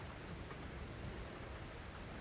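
Steady, dense rain hiss falls evenly throughout, moderately loud with no voices, a continuous wash of drops on surfaces.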